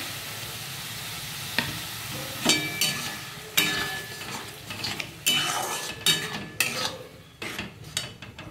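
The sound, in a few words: spice masala with tomato paste frying and being stirred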